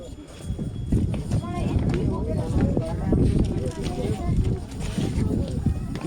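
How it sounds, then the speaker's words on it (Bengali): Wind buffeting the microphone on a stair descent from the Muktinath temple high in the Nepal mountains, a strong, continuous rumbling gust noise throughout, steady and close. "বেশ ভালোই হাওয়া দিচ্ছে এখন"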